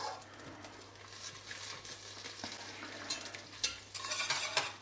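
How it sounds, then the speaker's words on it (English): Butter and garlic oil heat in a pan for a spicy sriracha mac and cheese sauce, giving a steady soft sizzle with light stirring scrapes that grow a little louder toward the end. "I've got some butter, my butter in my pan. So what we're going to do is, I've got some garlic oil here."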